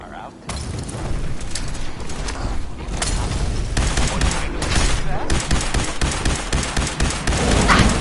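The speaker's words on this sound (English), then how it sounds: "Opening fire!" Sustained gunfire in the Fallout 4 video game crackles as a loud fusillade of repeated shots and booms across the whole stretch, with game character voices mixed in.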